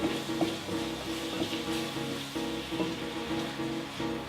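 Red onion sizzles and crackles in a hot pan as it is stirred in, giving a steady frying hiss with small scraping knocks, moderately loud and without talk.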